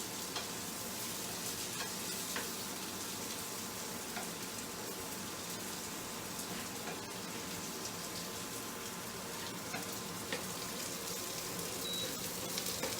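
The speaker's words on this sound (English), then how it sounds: "we are sauteing our vegetables here" Half-fried vegetables for a kullad biryani sauté in a pan, giving an even, constant sizzle with soft stirring noises throughout, close up and fairly quiet, with no voices.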